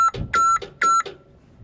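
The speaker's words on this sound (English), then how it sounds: "When I go to move anything, all I get is a beeping." A machine's warning beeper sounds in three loud, steady electronic bursts at an even rhythm, each held about a quarter second, with faint low mechanical noise between them, while the machine fails to drive or move its winch during a harvest.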